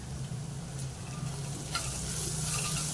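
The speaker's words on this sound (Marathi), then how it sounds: "आता हे पण आपल्याला चांगलं परतवून घ्यायचं आहे व्यवस्थित" Spices with garam masala sauté in a pan for dhaba-style dal fry: a faint, even sizzling hiss over low hum, growing slightly brighter partway through the brief moment.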